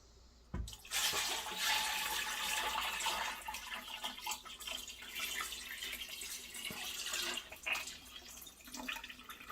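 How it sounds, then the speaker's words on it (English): Strawberry wine must pours straight from a pot in a continuous close liquid gush and splash, starting with a sharp knock and lasting several seconds. "now I'm going to try my luck and pouring it directly from the pot"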